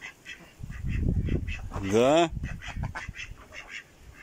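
Domestic ducks on a farm give a short nasal, rising call near the middle, sounding fairly close, with a person talking before and after it.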